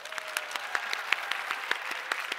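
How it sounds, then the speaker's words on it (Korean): A small audience claps at a forum talk show, fairly faint with individual claps distinct in a quick, uneven rhythm over a short stretch. "잘 키웠다고 박수 한 번만 좀."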